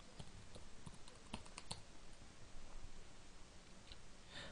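Password typed on a computer keyboard during an Ubuntu software install, faint and close, with a quick run of light key clicks early on and then sparse taps over a steady background hiss.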